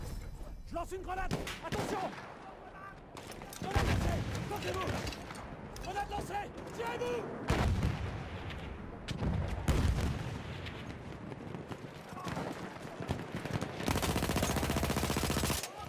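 Automatico submachine gun in Battlefield 1 night combat, firing several rapid bursts among other distant gunfire and booms, with voices heard at times.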